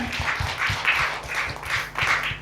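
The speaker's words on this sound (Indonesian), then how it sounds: "Berikan tepuk tangan meriah untuk Tuhan." A church congregation in Batam applauds during a worship service, a sustained round of clapping close by with a steady rhythm and no voices over it.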